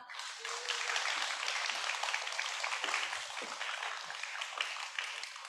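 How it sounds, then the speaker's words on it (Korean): An audience at a 2021 peace event in Incheon applauds steadily for a little over five seconds, an even wash of many hands clapping at moderate level with no voices on top. "큰 박수 부탁드립니다"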